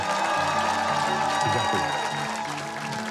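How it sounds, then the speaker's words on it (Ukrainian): Sustained audience applause after a performance by a Ukrainian soldier fills the whole stretch, a dense wash of clapping with some crowd noise underneath. "Ще раз оплески, будь ласка, Тарас Столяр."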